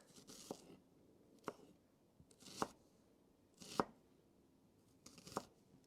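A knife slicing an onion thinly on a board, five or six crisp, separate chops spaced about a second apart, close and fairly quiet against a faint background.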